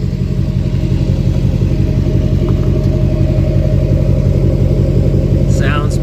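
An LBZ Duramax diesel truck with a 5-inch straight pipe exhaust idles with a loud, deep, evenly pulsing rumble that is close and constant throughout.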